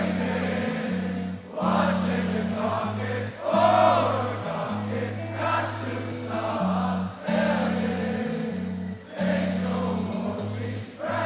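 A large concert crowd at a show in Berlin sings and cheers along in sustained, rhythmic waves, loud and dense, with the chanting swelling and dipping between phrases.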